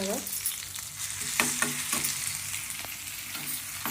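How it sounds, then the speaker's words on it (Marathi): Coarse green chili paste fries in hot oil with cumin and curry leaves while being stirred, a dense sizzle with a few sharp scraping strokes of a spoon against the pan. "व्यवस्थित खालून घ्या."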